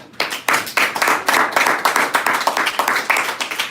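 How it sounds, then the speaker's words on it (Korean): A church congregation claps together, a loud run of sharp, fairly regular hand claps close by that fills the room with no talking over it. "우리 주님께 박수 한번 하십시다."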